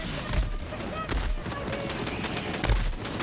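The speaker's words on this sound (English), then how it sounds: "Pistol rocket launcher." A pistol rocket launcher in Borderlands 3 fires in loud, rapid bursts with heavy booms and explosions amid dense game battle noise.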